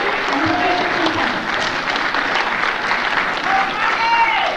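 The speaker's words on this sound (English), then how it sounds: "They deserve a round of applause." A crowd claps steadily in sustained applause from start to finish, with faint voices mixed in.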